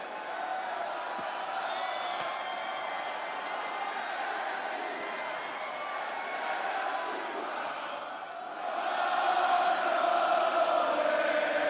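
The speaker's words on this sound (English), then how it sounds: "So the crowd always sing it, but they've just taken over." Wrestling arena crowd singing an entrance song together, a dense roar of many voices that swells louder near the end.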